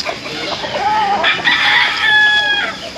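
A rooster crows alone in one drawn-out call, loud and fairly near, with a rising and falling tone over a short stretch of background noise.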